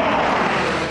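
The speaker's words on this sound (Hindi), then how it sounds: "इस फॉरवर्ड एयर बेस पर सबसे पहले हम आपको दिखाते हैं सुखोई लड़ाकू विमान की गर्जना।" A Sukhoi fighter jet roaring at a forward air base near the China border, a steady loud broadband jet roar filling the short moment without pause.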